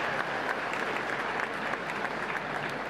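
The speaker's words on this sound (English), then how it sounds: "that certainly deserves a round of applause" Crowd applause fills a celebration of Israel's 71st Independence Day, a dense, even patter of many hands clapping at moderate volume for the whole stretch.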